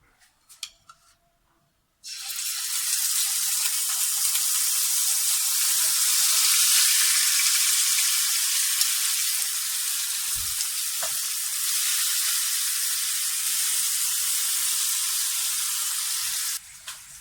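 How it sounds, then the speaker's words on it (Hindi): Marinated chicken dropped into hot cooking oil in a pan bursts into a loud, dense, steady sizzle after a quiet start, holding for about fifteen seconds before cutting off, close up with no one speaking. "अब हम इसमें जो चिकन मैरिनेट किया था उसको डालेंगे।"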